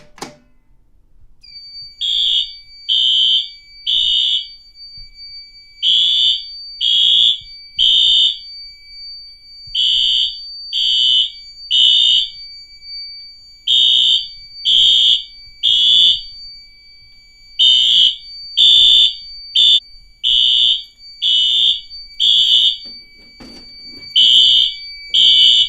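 An addressable fire alarm system sounds after a pull station is activated, giving loud, steady repeating tone pulses in a regular rhythm for the whole stretch, close and alone with no talking.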